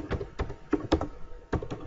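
Keys clack on a computer keyboard in short irregular bursts as a command is typed, close and fairly crisp, with brief pauses between groups of strokes.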